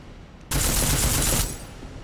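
Gunfire from a weapon in Deus Ex: Mankind Divided: a sudden, loud, sustained rapid-fire burst lasting about a second, then cutting off into a quieter background hum.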